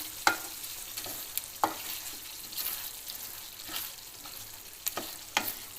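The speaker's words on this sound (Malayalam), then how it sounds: "ഇനി നമുക്ക് നന്നായിട്ടൊന്ന് ഇളക്കി മിക്സ് ചെയ്യാം" Chilli chicken is stirred and mixed in a pan. Occasional scraping strokes sound over a quiet, continuous sizzle at close range.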